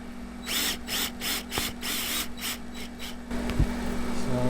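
A power drill on a light torque setting drives #10 by 1-inch screws during an RV shower repair, with several short bursts of whirring in a steady rhythm, close and moderately loud, followed by a lower rumble.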